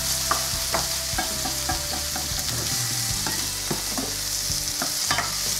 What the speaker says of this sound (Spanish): Se le da una vueltecita, no os preocupéis por lo que se ha pegado de la harina, ¿vale?